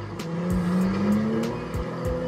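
Car driven in GTA 5, a steady engine drone with a rising pitch, rhythmic thumps and brief tire noise, continuous and close with no talking.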